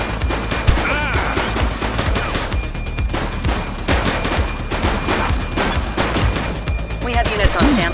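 Rapid gunfire in the police video game The Precinct, with bursts of shots running through the whole stretch amid a dense game mix, and voices faintly under the shooting.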